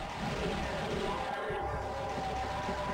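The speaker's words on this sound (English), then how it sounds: "That is the sound of a kamikaze guy" A kamikaze enemy in the Gauntlet video game lets out a sustained harsh scream, a loud, noisy yell lasting a few seconds within the game's din, with no speech over it.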